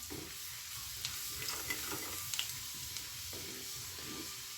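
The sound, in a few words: chopped garlic frying in oil with cumin and mustard seeds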